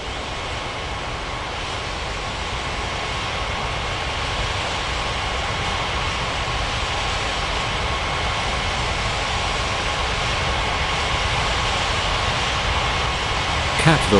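Airliner jet engines roar steadily while taxiing to the runway in an air traffic control game, a loud, unbroken whine and rumble holding level throughout with no pauses.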